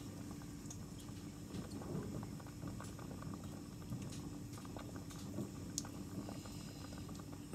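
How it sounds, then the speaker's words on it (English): Chocolate melting in a smaller bowl gives off a steady, soft bubbling simmer with faint pattering crackles, continuous and close throughout. "so my chocolate's melting"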